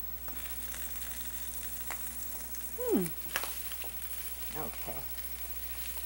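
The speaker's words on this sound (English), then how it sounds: "That should really sizzle and pop when you put that in," Meatballs fry in hot oil with a faint, steady sizzle and occasional soft pops, heard mostly alone at low level, with brief talk from a person partway through.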